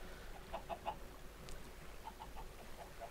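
Chickens in a Minecraft automated chicken farm give faint, soft clucks in small clusters of two or three, spread across a quiet, hissy background.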